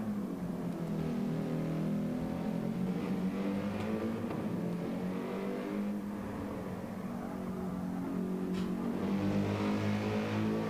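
Race cars in a racing video game during a qualifier event, with a steady, continuous engine drone and rising revs, moderately loud and without talk.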